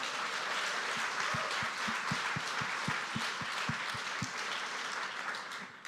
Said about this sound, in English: Round of applause for all of you guys for coming.